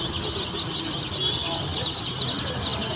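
Busy background of poultry noise, soft clucking and chatter from several colored chicks mixed with a low murmur, steady throughout.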